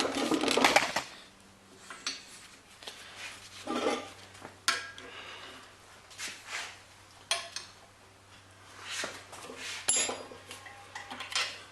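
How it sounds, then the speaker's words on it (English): Wrench work loosening the motor bolts on a Fleming Gray B2 skate sharpener: repeated metallic clanks, ratcheting and tool scrapes come in irregular bursts, close up, over a low steady hum. "I'm going to crack the 4 motor bolts loose, the bearing housing to the motor."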